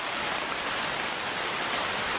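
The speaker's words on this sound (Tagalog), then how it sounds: "tumigil tong ulan kasi grabing lakas" Heavy rain pours down in a steady, dense hiss with no pauses and no voices.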